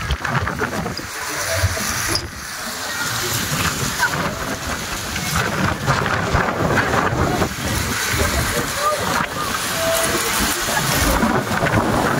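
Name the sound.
strong wind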